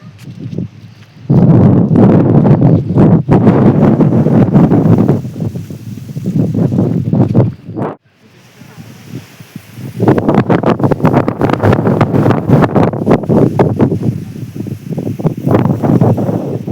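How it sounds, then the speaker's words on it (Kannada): Cold wind gusting near Pushpagiri temple in misty Coorg hills, loud blustery blasts buffeting the microphone in two long waves with a brief lull between. "ಸೊ ಏನು ಶೀತ ಗಾಳಿ ನೀವು ಕೇಳಿಸ್ಕೊತಾ ಇದ್ದೀರಾ"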